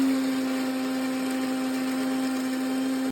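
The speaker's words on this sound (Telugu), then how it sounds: "నానబెట్టిన చింతపండును తీసుకొని మిక్సీ జార్లో గ్రైండ్ చేయండి" A mixer grinder whirs steadily as it grinds soaked tamarind in a mixie jar for bitter gourd pachadi. The hum is loud, close and unbroken, then cuts off abruptly at the end.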